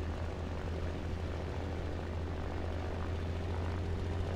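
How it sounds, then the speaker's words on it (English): A propeller aircraft engine drones steadily in War Thunder during a simulator battle event set around D-Day, a constant low hum filling the whole stretch without any talking. "My aircraft is just going crazy."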